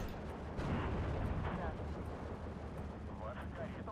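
Mortar and artillery fire rumble in the Steel Division 2 war game, with a dense, continuous barrage of booms and distant blasts layered under battle noise throughout the short stretch.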